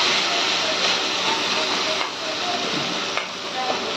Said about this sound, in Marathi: चला, आता टोमॅटो टाकून घेऊया. याला पण थोडासा भाजून घेऊया आपण.